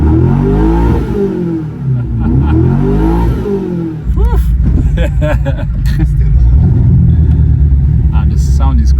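Naran hypercar engine heard up close, a deep rumbling roar that rises and falls with revving and acceleration, loud throughout and overlapping with people talking excitedly nearby.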